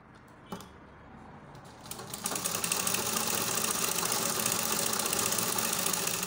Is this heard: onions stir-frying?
no